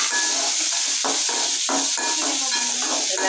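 Onions and tomatoes for coriander chutney sizzle steadily in a hot pan, a constant loud frying hiss with intermittent stirring scrapes and clinks of the spoon against the pan.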